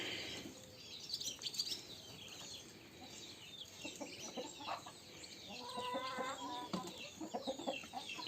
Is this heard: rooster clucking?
yes